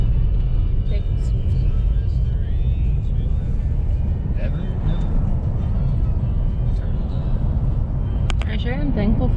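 A four-wheel-drive truck drives along a snowy exit road, its engine and tyre rumble a steady, close drone from start to finish, with voices talking over it.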